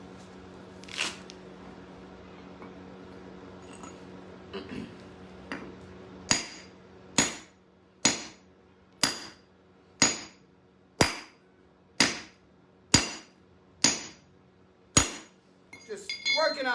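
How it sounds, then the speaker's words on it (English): Geodes are cracked open with a hammer and chisel, a few scattered light taps followed by a steady run of about ten sharp ringing metallic strikes at roughly one per second, close and clear over a low hum. "Just working on cracking open some geodes here with a hammer and chisel, which is not always easy."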